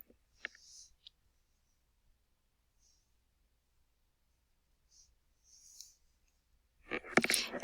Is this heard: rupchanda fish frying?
no